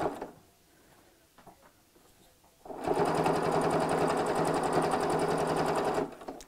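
A sewing machine runs steadily for about three seconds, stitching frayed chenille fabric for a clutch bag. The whirring is loud and continuous and comes after a quieter stretch of soft handling noises.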